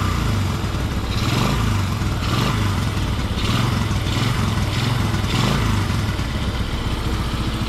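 A 1987-88 Honda ATC125 three-wheeler with a rebuilt high-compression 130cc piston top end idles close and loud, a steady chugging putter with slight rhythmic swells in engine speed.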